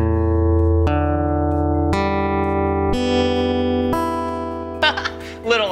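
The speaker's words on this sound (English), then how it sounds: "when you strum the strings, it makes some noise" Guitar strings on a hands-on exhibit at a children's science museum are strummed slightly out of tune, giving four loud ringing chords about a second apart, each left to sustain, followed by a brief scratchy rattle.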